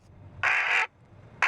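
A recorded carrion crow distress call is broadcast at Roissy airport to scare off birds: two harsh, loud, raspy caws separated by a short pause, with no voices.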